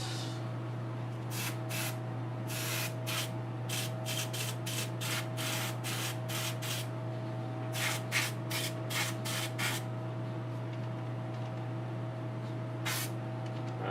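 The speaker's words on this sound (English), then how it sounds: "We're going to try to do some airbrushing on it." An airbrush spraying paint on a Lola Bunny figure gives rapid short bursts of airy hiss, some grouped in quick clusters, over a steady low compressor hum.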